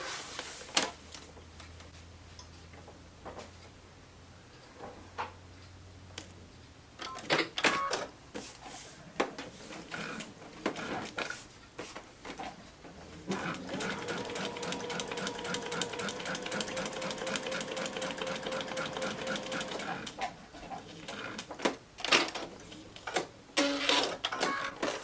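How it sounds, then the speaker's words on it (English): A sewing machine stitches a seam on a Courthouse Step quilt block, starting with scattered clicks and short bursts before running steadily for several seconds, then slowing to intermittent clicks. "I'm going to sew that line right there"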